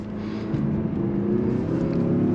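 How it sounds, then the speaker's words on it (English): A 2024 Mazda CX-5 in sport mode with manual shifting pulls hard in low gear, its turbocharged engine giving a steady, loud, rising drone close inside the cabin. "There's the turbo."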